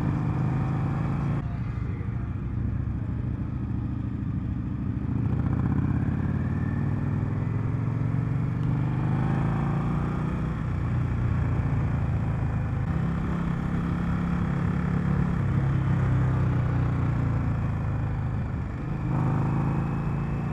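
A 2020 Indian Scout Bobber motorcycle engine drones steadily through a demo-day test ride, with a continuous low rumble and wind noise and shifting pitch as the bike rolls along.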